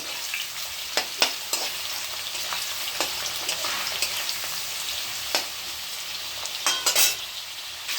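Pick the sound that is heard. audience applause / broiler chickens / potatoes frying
potatoes frying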